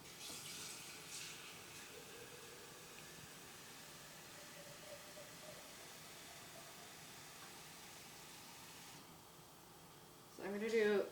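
Water poured steadily into a pan, about a quart, for making natural egg dye. A continuous hissing flow runs for roughly nine seconds, then stops and is followed by a brief louder clatter.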